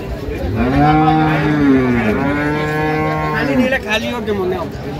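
Cows and calves at a rural cattle market let out a long, loud, close moo with a drawn-out rising and falling tone, followed by a shorter call.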